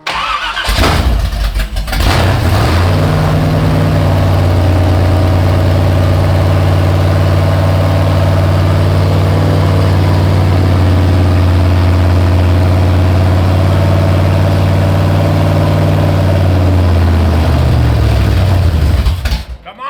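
A supercar V12 engine swapped into an 80s hot rod cranks, fires up and settles into a loud, close, steady idle that drones evenly before cutting off, with brief voices at the start.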